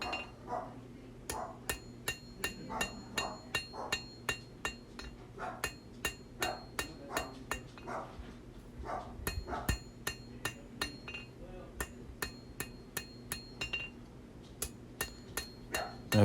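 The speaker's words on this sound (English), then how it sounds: "Light blows, taking out the hammer marks." Light hammer blows planishing a hand-forged knife blade ring out in a steady, quick rhythm, dozens of sharp metallic taps with short pauses between runs.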